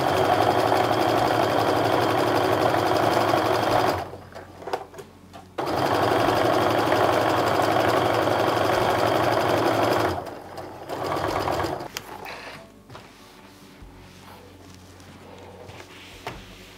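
Stitching strips onto a maple leaf log cabin quilt, a sewing machine runs in three long bursts. Short pauses with handling noises separate them, and the stretch ends in quieter rustling. The whirring is close and steady, with no speech.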